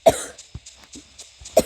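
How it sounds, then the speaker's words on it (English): Several coughs from a person who is a little sick, close and fairly loud: a strong cough at the start, a few lighter ones in between and another strong cough at the end. "That's why I'm coughing."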